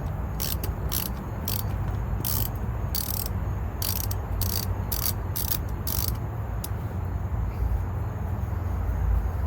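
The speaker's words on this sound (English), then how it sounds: "Can't find my smaller ratchet, so gotta use this one with an extension." A ratchet fitted with an extension and a 7mm socket turns a bolt on a 2005 Chrysler PT Cruiser during a horn installation, giving short bursts of crisp clicking under a steady background hum.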